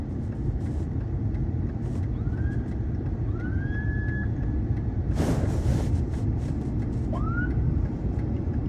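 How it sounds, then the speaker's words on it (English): A police car siren wails in rising sweeps, moderately faint and distant, as the vehicle passes by over steady traffic rumble, with a brief loud broadband whoosh midway. "Police car's going somewhere."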